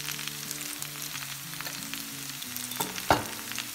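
Potatoes with egg and red pepper flakes frying in a pan and being turned, a steady close sizzle with a low hum underneath and a sharp scrape near the end.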